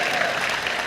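Audience clapping at a rap battle, a brief, steady burst of dense applause from a crowd, loud and continuous with no break.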